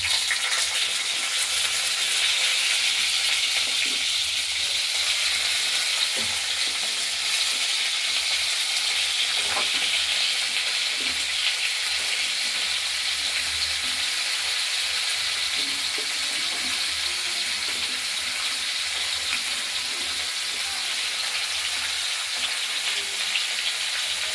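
Potato, beans, cauliflower and plantain frying in a pan for a Bengali ghant, giving a steady, dense sizzle that stays loud and even throughout with faint stirring knocks.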